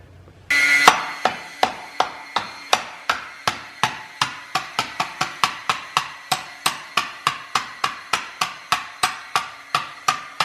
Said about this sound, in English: I smack it with a hammer to get it off